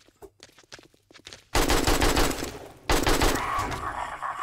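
An AK rifle firing 7.62 rounds in the zombie survival game 7 Days to Die: two loud rapid automatic bursts after a stretch of quieter thumps and movement, each burst dense and close.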